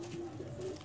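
Pigeons coo softly on a rooftop loft, a low steady murmur of overlapping calls with a held humming tone, close by and fairly quiet.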